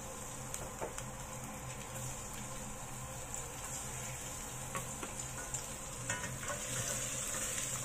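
Garlic frying in cooking oil in a pan while bitter gourd with egg is cooked, a faint steady sizzle with small crackles, continuous and fairly quiet.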